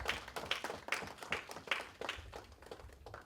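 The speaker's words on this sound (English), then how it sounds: "I think they deserve a round of applause." An audience at a leadership conference claps together in a fairly even rhythm of sharp hand claps, moderately loud and filling the room, tapering off toward the end.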